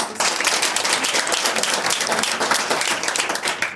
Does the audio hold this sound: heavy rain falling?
no